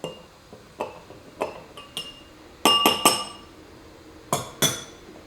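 Spoon stirring an oat milk latte in a glass: a series of sharp, close clinks against the glass, scattered at first, then a quick cluster of several rings, and two final taps.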